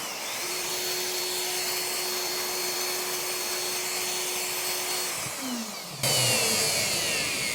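A workshop dust collector runs after routing MDF, a steady loud whooshing drone that shifts abruptly near the end as the airflow changes.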